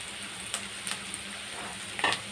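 Green chilies, chopped garlic and ginger sauté in a pan with a steady, even sizzle, and a few light clicks of a stirring spoon break through it, one near the end.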